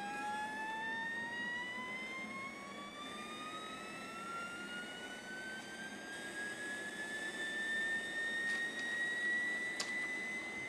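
An F-117 stealth fighter's jet engine spools up for a night takeoff at maximum power in a 1992 PC flight game, a rising whine climbing steadily in pitch over a loud roar, alone.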